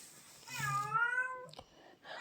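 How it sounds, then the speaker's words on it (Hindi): A single drawn-out cat meow sounds close by indoors in a quiet room where embroidery stitching is under way, rising then falling in pitch, followed by a couple of faint soft knocks. "पता नहीं बिल्ली कहाँ से आ गई, इसकी इतनी आवाज़ आ रही है ना"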